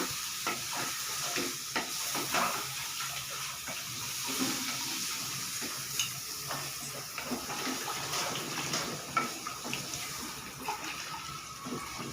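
Pieces cooking in a pan with steady sizzling and frying, stirred now and then with scraping clatter, close and continuous throughout.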